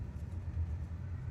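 Car moving along a village road, a low steady engine rumble close by with no breaks or other sounds.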